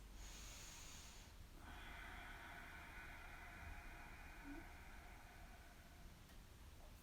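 Yoga ocean breath, drawn in and out through the nose with the tongue pressed to the roof of the mouth, makes a soft, hissing, wave-like rush held steadily for several seconds, close and quiet with no talking.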